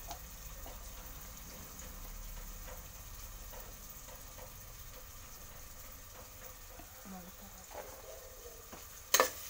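Ginger garlic paste fries in oil for a mutton curry, a faint, steady sizzle with occasional stirring scrapes and a brief louder clatter near the end.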